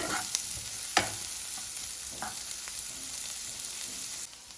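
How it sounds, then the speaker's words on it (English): Capsicum and corn cooking in a pan, a quiet steady sizzle with a few light taps and scrapes of a spoon as it is stirred. "We are going to stir it and we'll cover it for next 2 to 3 minutes until our capsicum is cooked."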